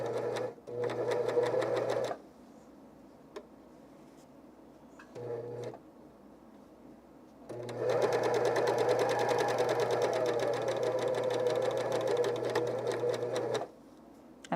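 Serger sewing machine stitching underwear fabric over a thick gusset, running in loud close bursts: two short runs, then a long steady stretch of rapid mechanical whirring and clatter.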